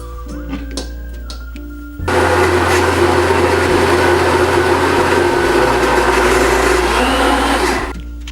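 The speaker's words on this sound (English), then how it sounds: "you're gonna put the blender on puree and let it go until the mix is smooth" A countertop blender set to puree churns horchata mix, kicking on abruptly after a few soft kitchen clatters and running loud and steady for about six seconds before cutting off.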